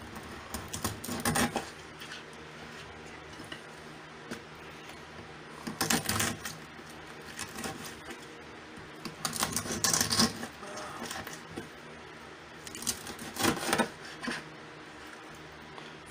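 Lechon kawali, crispy fried pork belly, being cut into pieces: three clusters of sharp crackly crunching and knife taps a few seconds apart, fairly quiet, with no talk.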